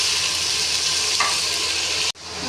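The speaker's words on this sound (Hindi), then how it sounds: "इसको अच्छे से भूनेंगे।" Onion, garlic-ginger paste, tomato and green chilli fry in a pan with a constant loud sizzle, a brief scrape of stirring near the middle and a sudden drop in the hiss near the end.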